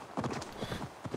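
Quick clip-clop of horse hooves trotting at a steady rhythm in Assassin's Creed Valhalla, close and moderately loud, with no voices.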